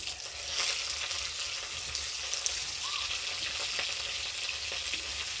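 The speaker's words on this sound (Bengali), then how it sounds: "আর এখন কপিগুলোকে ভেজে নেব" Cauliflower pieces fry in hot oil in a pan at home, giving a steady, close sizzle and crackle that runs without a break, with faint stirring and no talking.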